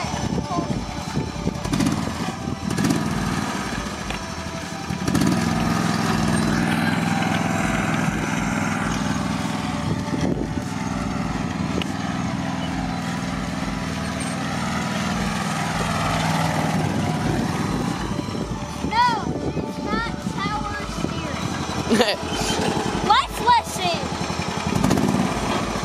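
A John Deere riding lawn mower engine drones steadily and loudly close by for the whole stretch, its pitch shifting as it speeds up, while people talk and shout over it.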